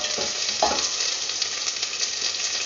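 Onion frying and sizzling in a pan for chicken ginger broth, a steady close hiss with a brief stirring scrape early on, no talking.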